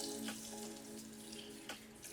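Water sprinkled by hand over four bread loaves before baking, a soft, close spraying patter with brief splashy bursts over a steady background hum.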